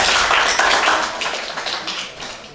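Students in a classroom clap together, a dense burst of applause that starts loud and gradually thins and fades over a couple of seconds.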